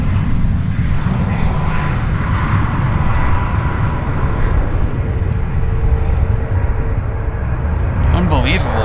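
A WestJet airliner rolling for takeoff at Vancouver airport, a loud sustained engine roar that stays strong and steady, with a voice briefly heard near the end.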